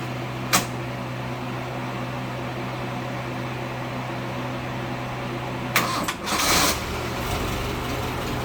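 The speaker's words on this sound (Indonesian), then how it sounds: "Coba kita nyalakan aja untuk mesinnya, Mas Tri." A used car's engine being started in a dealer lot: steady idle-like hum with a sharp click early on, then a cranking burst near the end as it catches, heard alone without talk.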